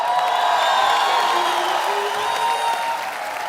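Loud, sustained studio audience applause with whoops and cheering on a comedy talk show, steady throughout with tonal music or whistling running over it.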